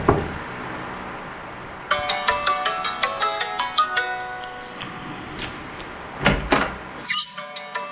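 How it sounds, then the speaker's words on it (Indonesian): A phone rings during an outgoing call in an Indonesian drama, a melodic ringtone repeating steadily at close range with no talking. "Sudahlah, mending telepon Laoyo saja"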